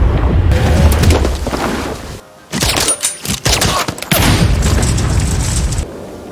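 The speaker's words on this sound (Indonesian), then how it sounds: "Hinako tetap menembakkan pistolnya" A pistol fired in a revenge thriller film lands as a loud, booming blast amid dense dramatic sound, with a brief drop to near silence before heavy, echoing impacts resume.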